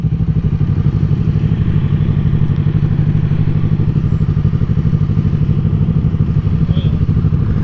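A cruiser motorcycle rumbles along the road with a loud, steady, pulsing engine drone, close and continuous under wind noise, with no voices.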